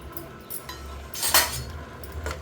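A ladle stirring curd into chow chow and raw papaya mor kootu in a metal pot, with soft scraping and several bright clinks of metal against the rim, close and without talk.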